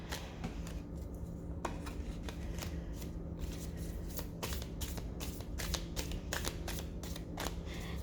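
A tarot card deck being shuffled, rapid riffling and flicking of cards close by in quick bursts, steady and quiet, with no talk.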